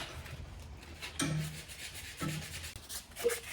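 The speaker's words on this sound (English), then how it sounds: "Can I sandpaper this?" Sandpaper scrapes over a piece of wood in short, rough strokes, each lasting about a second, close and fairly quiet with gaps between passes.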